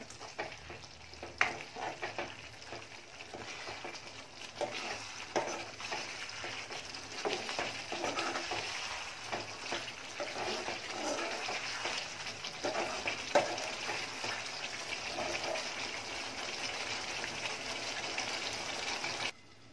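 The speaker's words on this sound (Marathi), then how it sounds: "कांदे आहेत ते जरा ढवळून घ्यायचे आहेत" White onions sizzle and bubble in gravy for a Maharashtrian onion bharit, faint and close, with soft scraping stirs and irregular spatters over a continuous frying hiss.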